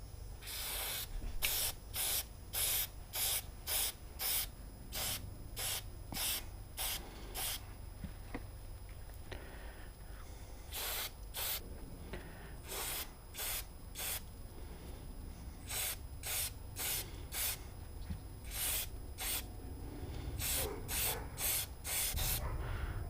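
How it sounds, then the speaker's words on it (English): Oil sprayed in repeated short bursts onto the crowns of a pleated air filter, each hissing spray a second or so long, coming in quick clusters separated by brief pauses, fairly close and clear, with no talking. "Now to put the oil on. You're just supposed to spray it up and down on each part of the crown of the pleat."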